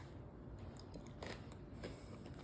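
A crunchy holiday pretzel bite being bitten and chewed, giving a few crisp crunches at close range against a very quiet background.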